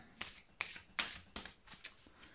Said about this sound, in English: Let's shuffle some oracles